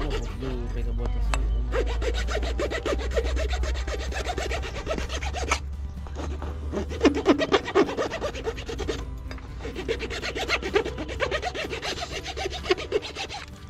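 A rodeo bull's horn tip being filed, with rough rhythmic rasping strokes, close and fairly loud, under occasional voices of people working nearby.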